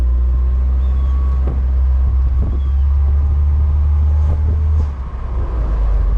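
A 1998 Mercedes-Benz SLK 230 engine fitted with an intake mod drones steadily while driving, a loud continuous low rumble with some wind noise and a brief dip near the end.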